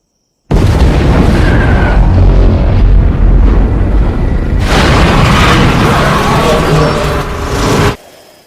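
A huge atomic bomb blast in a zombie film bursts in suddenly after a short silence, then holds as a loud, dense, roaring rumble that swells again midway before cutting off abruptly.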